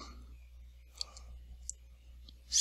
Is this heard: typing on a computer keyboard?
yes